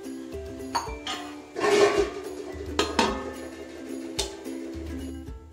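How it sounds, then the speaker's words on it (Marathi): A metal lid set on a pot of cooked rice for a veg biryani, several clinking and clattering metal knocks spread across a few seconds, close and moderately loud, with no talk. "आणि झाकण ठेवून गॅस बंद करूया."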